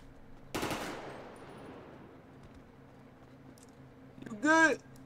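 Gunfire in a Grand Theft Auto roleplay game: a sharp burst early on that trails off into a decaying echo, then a second loud burst near the end, with no talk over them.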